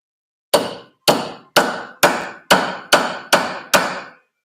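Eight evenly spaced hammer taps ring out while front ball joints are fitted on an MR6, each a sharp metallic knock with a short decay, close and alone.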